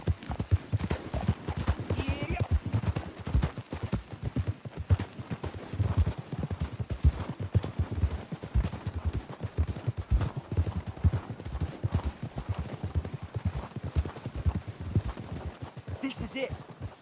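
Horses' hooves clip-clop steadily at a walk in the Western video game Red Dead Redemption 2, close and rhythmic throughout, with a few faint crackles and clicks near the end and no clear talk.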